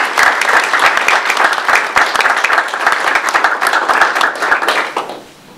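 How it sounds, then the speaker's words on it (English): Loud, close audience applause at a naming ceremony, dense clapping from many people sustained for about five seconds before quickly dying away. "So what I'd like to do is give them a round of applause"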